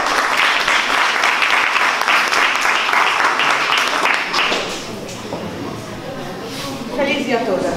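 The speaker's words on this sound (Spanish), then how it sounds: "Un fuerte aplauso." An indoor audience at a cultural association celebration gives strong applause, dense clapping for several seconds that then tapers off as voices and murmuring take over.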